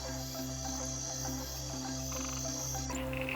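Frogs call in a steady rhythmic chorus of repeated croaks, pulsing evenly over a constant bed of insect and cricket trill.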